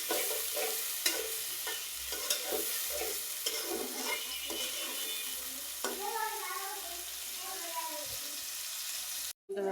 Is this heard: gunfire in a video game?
no